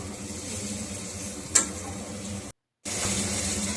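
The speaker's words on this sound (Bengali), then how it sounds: "সমস্ত গুঁড়ো মশলা, হলুদ গুঁড়ো, লাল লঙ্কা গুঁড়ো, জিরে গুঁড়ো, ধনে গুঁড়ো সমস্তটা দিয়ে মিক্স করে ভালো করে কষাবো" Ground turmeric, red chilli, cumin and coriander powders sauté with a little water for a mushroom dish, giving a steady close sizzle with one sharp clink of a utensil, a short break of silence, then more frying.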